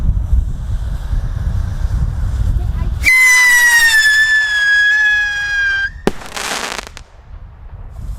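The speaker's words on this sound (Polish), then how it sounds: "bardzo fajny pisk i crackling" A loud rumbling whoosh gives way to a long, high, slightly falling whistle from a Klasek screaming firework rocket, then a sharp bang and a burst of crackling, echoing outdoors.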